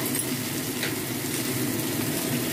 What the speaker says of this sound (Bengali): এগুলো দিয়েও আমরা হালকা ভেজে নেব